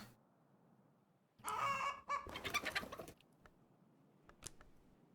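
Hen clucking in a Lovecraft-themed video game, a loud burst of clucks and squawks followed by a few scattered shorter calls over a quiet background hum.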